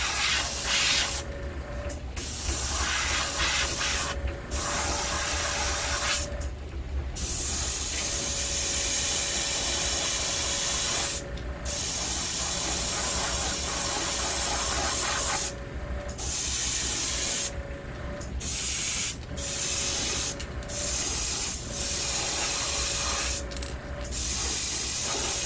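Airbrush spray painting a vintage Storm Wiggle Wart fishing lure, a close steady hiss in repeated bursts of a few seconds each, separated by short pauses.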